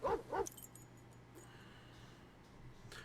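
A dog in a Sherlock Holmes video game gives two quick yelping barks at the start, fairly close, followed by a quiet stretch of low ambient game sound and a faint jangle.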